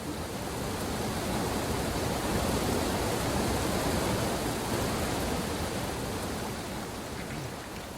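A waterfall in the video game Asterigos makes a steady, dense rushing roar that fills the whole stretch evenly, with no voices over it.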